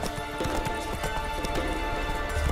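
Roach the horse gallops in The Witcher 3, hooves clip-clopping in a quick steady rhythm, close and clear, with a brief whinny mixed in over low game ambience.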